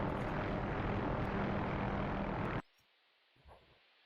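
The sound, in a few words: AH-6J helicopter flying in a video game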